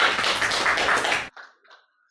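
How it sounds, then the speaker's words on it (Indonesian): A classroom of high school students claps for a classmate during a maths lesson, a short burst of dense clapping that stops abruptly, followed by a few faint taps and near silence. "Tepuk tangan buat Lena."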